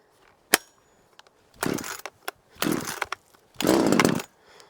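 An Amazon budget chainsaw being pull-started with the choke on: a sharp click followed by three loud, rasping starter-cord pulls, each about half a second, close by with brief pauses between.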